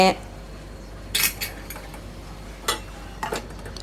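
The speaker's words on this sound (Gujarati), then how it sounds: "બે નંગ જેટલા ભાવનગરી મરચાં નાખીને એક વખત સરસ રીતે મિક્સ કરી લેવું" Bhavnagari chillies being stirred into a sev tameta curry: a few separate spoon clinks and scrapes against the pot, short and bright, with quiet stretches between them.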